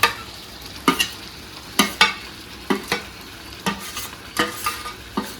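Chicken leg pieces sizzle in masala in a pan while a utensil stirs them. Sharp scraping strokes land at a steady rhythm about once a second over the continuous frying, close and fairly loud.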